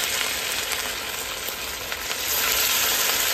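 Idlis frying in hot oil, a steady dense sizzle that stays loud and close throughout, rising slightly near the end, with no voices.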